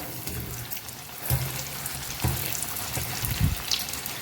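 Chicken pieces deep frying in hot oil for majestic chicken, a steady hiss and crackle with a few louder bursts as pieces shift, close and continuous with no talking.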